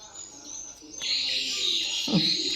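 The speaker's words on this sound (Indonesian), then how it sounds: "Banyak benar di sini burung di sini." Swiftlets inside a swiftlet house keep up a dense, continuous high chirping chorus, with a brief low voice-like sound near the end.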